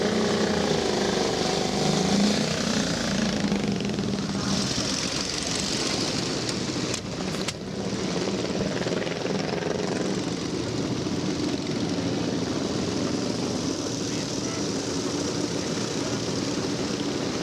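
A vintage 1926 Royal Enfield two-stroke motorcycle sets off at the Banbury Run, a steady engine drone with a short dip midway, steady and fairly close, with no talk.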